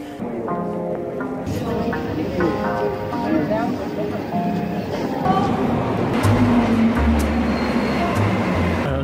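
Montreal metro train rumbling and screeching through Place-d'Armes station, with mechanical whine and low rolling noise, people talking nearby over the din.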